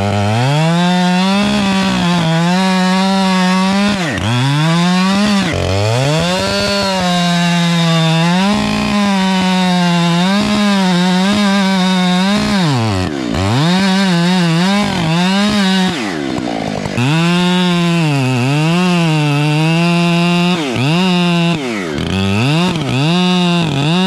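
A Husqvarna 592 chainsaw fitted with a 36 inch bar cuts through trees, its loud engine revving and dipping continuously close by, with no talking.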